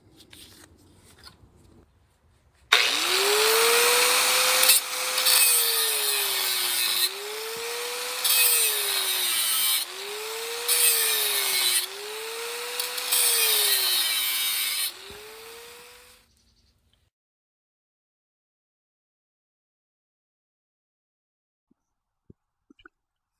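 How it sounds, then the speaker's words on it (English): An angle grinder removes excess driveshaft tube from a steel yoke while a driveshaft is built for a 1961 Rambler. It runs loud and continuous for about thirteen seconds, its motor pitch sagging and recovering repeatedly under load, then cuts off to silence. "I got the excess drive shaft tube that was on it welded, or ground off rather"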